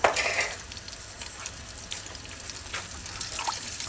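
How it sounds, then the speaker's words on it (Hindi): Spice paste frying in ghee for Peshawari namkeen gosht, a steady close sizzle with faint bubbling and occasional stirring scrapes, louder at the very start and continuing alone without talk. "हम इसको अच्छे से फ्राई कर लेते हैं घी में"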